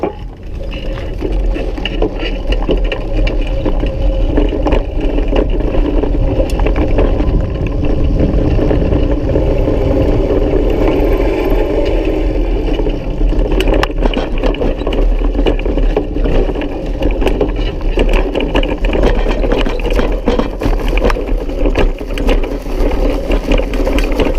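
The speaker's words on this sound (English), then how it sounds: "I'm gonna cruise around a little bit more and just ride through some of this rock hay stuff." A vintage electric scrambler motorcycle rides over a rocky path, its drivetrain giving off a loud, continuous mechanical whine with rattling and clattering throughout, recorded close.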